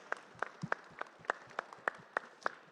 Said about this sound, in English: So a big round of applause for the panel members.